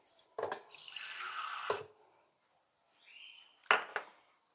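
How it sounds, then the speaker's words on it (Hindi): A kitchen tap runs briefly as water is taken to wet hands while shaping kababs, a close rushing stream followed by clinks of dishes and small knocks at a sink. "ज़रा थोड़ा सा पानी लूँ मैं, क्योंकि ये चिपकता है हाथ में।"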